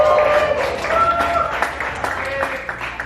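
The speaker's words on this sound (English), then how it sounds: "So thank you for that premature applause." Audience applause in a comedy club, a brief patter of clapping from the crowd mixed with a voice talking over it.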